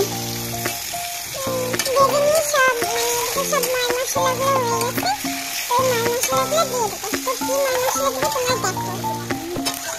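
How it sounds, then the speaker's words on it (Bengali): Pigeon meat frying in a pan with onions and cumin, a constant sizzle under lively nearby chatter and a voice, with occasional stirring scrapes. "মাংসগুলো ওর মধ্যে দিয়ে দেবো, হালকা একটু ভেজে নেব"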